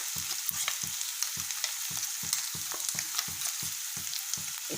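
Ginger-garlic paste fries in a pan, giving a steady sizzle with rhythmic scraping strokes of a spatula repeating about twice a second, close and fairly loud, no voices.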